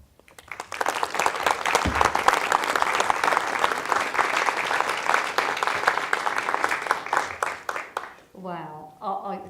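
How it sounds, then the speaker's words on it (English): Sustained audience applause fills the hall after a lecture on young people's mental health, loud and dense for about eight seconds before fading, with a speaker's voice coming in at the end. "Another round of applause."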